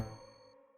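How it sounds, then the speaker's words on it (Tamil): A single doorbell chime sounds in a home in a Tamil TV serial. One bright ding rings out and fades within about half a second, faint and on its own. "யாரோ காலிங் பெல் அடிக்கறாங்க"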